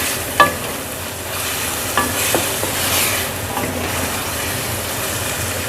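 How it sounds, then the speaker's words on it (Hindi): Garlic and ginger stirred and fried in a karahi for restaurant-style qeema karahi, giving a steady sizzle with a few sharp clinks and scrapes of the spoon against the pan, close and moderately loud with no talking. "अब ये डालकर अच्छे से आपने भूनना है। 2 से 3 मिनट तक इसको अच्छे से भून लें।"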